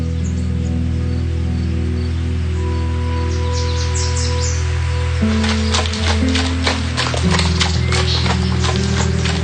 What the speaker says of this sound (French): Les pauvres chevaux, ils doivent être morts de fatigue avec cette chaleur, non?